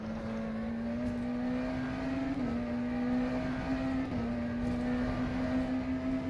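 McLaren Senna GTR race car in rFactor 2 at Sebring, a sustained high engine tone accelerating and holding near full throttle with small pitch dips at gear changes, steady and loud with no talk.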